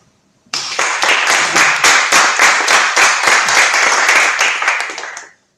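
Audience at a climate crisis information event claps in a steady, dense round of applause lasting about five seconds, starting abruptly and fading at the end, with no talking.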